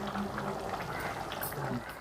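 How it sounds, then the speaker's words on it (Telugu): Rice simmering in a pot on a home stove, a steady bubbling boil that runs continuously and fairly close throughout. "అన్నం అయితే ఉడుకుతుంది"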